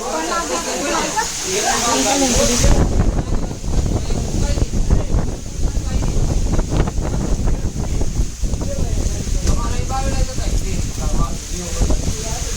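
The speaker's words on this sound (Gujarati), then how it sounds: "આપણે બતાવું તમને કેવો પવન છે બહાર" Strong wind gusts outside during heavy rain, a broad steady rush that roars close to the microphone for most of the stretch, with a voice talking at the start and again near the end.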